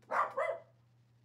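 A dog gives two quick, fairly close barks in a row, then falls quiet over a faint steady hum.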